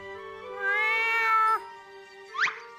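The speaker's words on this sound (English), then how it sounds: "Your meows sound very sad." Two meows up close: a long, drawn-out wavering one, then after a short pause a brief, sharp rising call.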